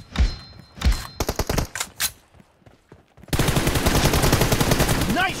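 Bursts of gunfire in the mobile battle game PUBG Mobile Lite: several loud single shots and short clusters, then a dense rapid automatic stream near the end, close and sharp.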